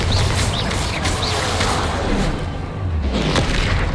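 Explosive combat spells blasting in the Hogwarts Legacy video game, a dense run of loud booming impacts and crackling bursts that continues throughout, with short whistling tones layered over the din.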